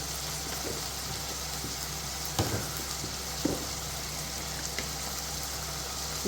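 A steady sizzle of tomatoes with turmeric and chili powder sautéing in a pan, with a few soft clinks of stirring, close up and continuous with no talking.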